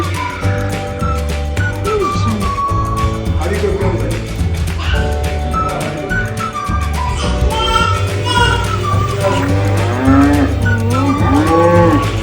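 Several long, low moos from cattle in a village, close by and repeated, as a calf suckles, with a few people talking in the background.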